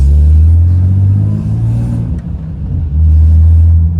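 A car engine rumbles loudly up close as the vehicle drives on new wheels with smaller sidewalls, a low droning growl that briefly dips before surging again.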